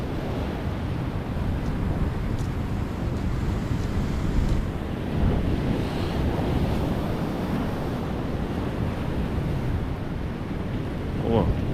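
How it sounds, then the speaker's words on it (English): Waves and wind at Sardinera Beach in Hatillo, Puerto Rico, a rocky shoreline where surf washes in a constant broad roar with gusts buffeting the microphone, loud and unbroken throughout. "This is Sardinera Beach here in Hatillo,"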